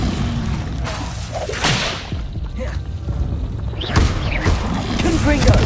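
Levioso levitation spell cast in the Hogwarts Legacy video game, a string of whooshing swishes and sharp whip-like cracks amid ongoing battle effects, with a voice calling out during the action.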